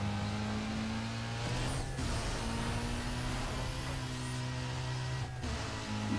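A BMW M3 GTR race car engine in Need For Speed Most Wanted 2005 holds a loud, steady high-revving drone. Two brief dips mark gear shifts, and the engine runs on alone without talk.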